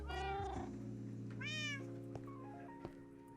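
A Minecraft cat meows twice in clear, close, synthetic game tones with no voices over it, followed by a few soft thunks.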